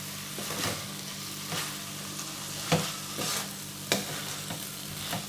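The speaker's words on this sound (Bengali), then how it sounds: "আমি এর মধ্যে ভাজা ঢ্যাঁড়সগুলো দিয়ে দিচ্ছি দিয়ে আর একটু এর সঙ্গে কষিয়ে নেব" Fried okra is stirred into a spice paste in a pan: a soft, steady sizzle with regular scraping strokes of a spatula, two of them sharper, all close and without talk.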